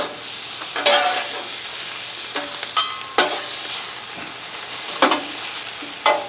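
Onions sizzle and fry on a Blackstone flat-top griddle, a steady hiss broken by several sharp scraping stirs of a spatula, close and clear with no voices.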